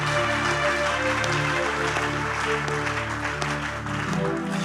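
A church congregation applauds loudly and continuously, a dense wash of clapping over sustained musical tones, with no pauses.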